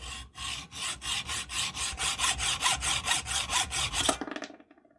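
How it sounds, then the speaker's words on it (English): Hand saw cutting a steel bayonet catch part for a Mannlicher 95 clamped in a vise: about sixteen quick, even rasping strokes in a steady rhythm, close and clear, ending abruptly. "I'll move to the vise and cut it off."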